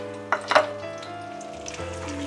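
Whole spices crackle and sizzle in hot oil and melted butter over a low flame, a few sharp pops early on over a soft steady fry with no voices.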